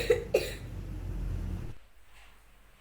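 A boy with a cough and cold gives two sharp coughs close to the microphone, followed by a brief rumble and then quiet.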